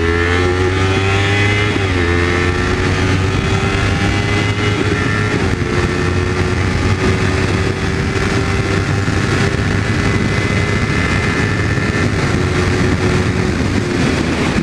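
Motorcycle accelerating hard from close by, a steady loud engine drone with brief dips as the quick shifter snaps through gear changes, continuous wind and road noise throughout.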